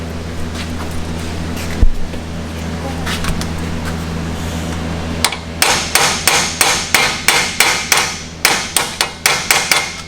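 Hammer tapping an axle bearing into place on a 2001 Firehawk: after some low background rumble, about a dozen sharp, close metallic strikes ring out in a quick, even rhythm.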